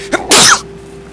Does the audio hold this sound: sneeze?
yes